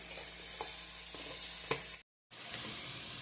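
Steady sizzling of beetroot chutney ingredients frying in oil in a pan on a stove, close and continuous with small stirring clicks, briefly cutting to silence before the sizzle resumes.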